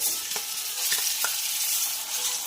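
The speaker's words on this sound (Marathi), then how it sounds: "यानंतर घालणार आहोत आपण कांद्याची पेस्ट" Onion paste sizzles and fries in a hot pan with ginger-garlic paste for a drumstick masala curry, a steady close hiss broken by a few soft stirring clicks.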